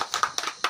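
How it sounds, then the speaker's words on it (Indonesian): A primary school class gives a short burst of applause for two pupils, several quick, light claps at close range in a classroom. "Kita tepuk tangan untuk Lisa dan Faldo."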